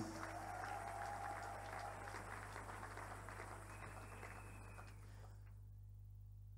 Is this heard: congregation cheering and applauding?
yes